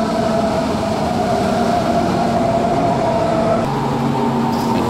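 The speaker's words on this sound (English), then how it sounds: "Here is a train pulling into our station." An S-Bahn commuter train pulls into a station in Munich, a steady loud rumble and hum of the rolling train close by, with no talk.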